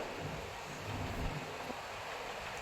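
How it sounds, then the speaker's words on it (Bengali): Steady rain falls outside, a soft, even wash of hiss with a faint low rumble underneath, heard at a distance with no one talking. "বাইরে বৃষ্টি হচ্ছে"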